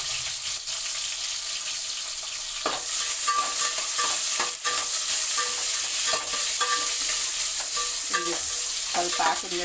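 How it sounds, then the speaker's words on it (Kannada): Drumsticks frying in hot oil: a loud, steady sizzle that swells after an initial quieter stretch, with spoon scrapes and clatter against the pan. "ಅದನ್ನು ಎಣ್ಣೆಲಿ ಚೆನ್ನಾಗಿ ಹುರಿದ್ಬಿಟ್ಟು ಮಸಾಲೆ ಹಾಕೋದು"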